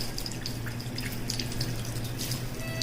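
Hands are washed under a running tap, giving a steady, close rush of flowing water that does not change, with light splashing and no voices.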